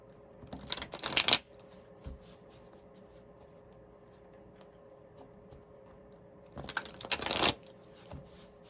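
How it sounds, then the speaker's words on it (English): Tarot cards shuffled in two quick riffling bursts, near and clear, separated by a long quiet stretch with faint room noise and a single soft tap. "One more shuffle."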